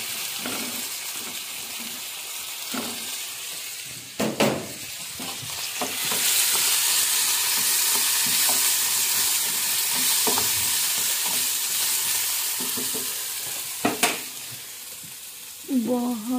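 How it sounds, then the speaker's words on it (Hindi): Potatoes fry in a pan until crispy, a steady close sizzle with spoon stirring and a few sharp utensil knocks against the pan, no talking. "आलू डाल के क्रिस्पी होने तक पका लूंगी"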